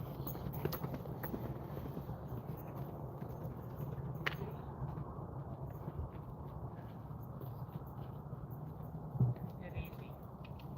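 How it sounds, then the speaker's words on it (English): Faint rhythmic hoofbeats of a horse trotting at a horse rescue in western Colorado, set under steady background noise with a light jingle of tack. "She's got a nice trot."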